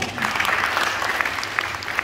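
Applause from an audience at a talk fills the stretch, a dense, steady patter of many hands that holds at a moderate level from start to finish.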